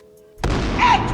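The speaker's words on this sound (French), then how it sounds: "Explosion!" A sudden loud explosion sound effect bursts in after near silence, a broad booming blast that sustains with rumbling noise to the end.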